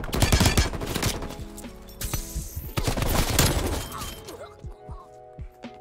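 A Stoner light machine gun in Call of Duty Cold War fires close and loud in rapid sustained bursts, mixed with crashing and shattering game effects and a brief pause, under the player's own voice.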